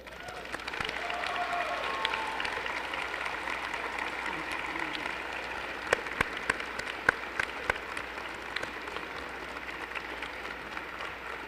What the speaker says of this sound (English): I want you to give them a round of applause because they certainly deserve it